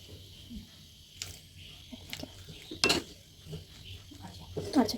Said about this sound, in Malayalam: ഇളക്കി നോക്കാം